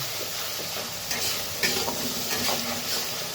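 Onion paste fries in a pan for a Bengali boal fish curry, giving a constant close sizzle with several louder scraping strokes as it is stirred, and no voice over it.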